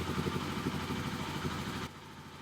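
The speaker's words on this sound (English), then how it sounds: "so let's start the bike." Kawasaki KLX250/300 dual-sport motorcycle engine running at a steady idle close by, a continuous low throb that drops slightly in level near the end.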